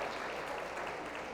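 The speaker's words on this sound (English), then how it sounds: "give yourselves a round of applause for being so brave" An audience claps together in a dense, steady burst of applause throughout, fairly faint and without talk.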